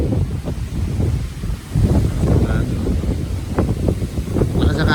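Strong gusting wind buffets the microphone outdoors, a loud, uneven roar that swells and dips throughout, with a person speaking briefly over it.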